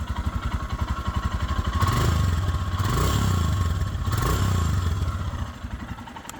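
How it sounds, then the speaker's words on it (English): A 411cc single-cylinder engine on a 2021 Royal Enfield Himalayan motorcycle thumps and revs nearby, its rapid pulsing beat rising and falling over several seconds. "Really nice tone out of that 411cc single piston engine."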